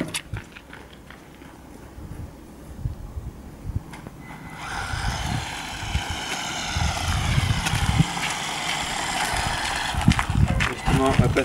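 A Goolsky RC buggy's electric motor whining as the trigger is squeezed harder, rising to a loud sustained buzz after a quieter start, with scrapes and knocks from the car close by.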